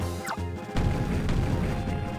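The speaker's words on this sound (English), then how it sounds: "Okay, what the heck's going on? There's more explosions." Explosions in the video game Pokémon Ranger: Shadows of Almia during a Ranger Union attack: a loud crash bursts in and gives way to a sustained, rumbling boom and clatter.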